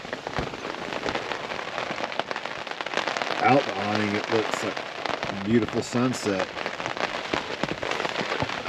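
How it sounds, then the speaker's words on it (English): Steady rain pattering and drumming on a large camp awning during a stormy overlanding trip between Colorado and Wyoming, with sharp irregular drops hitting the fabric throughout while a person talks over it partway through. "But here we're getting rained on and the awning's trying to blow off."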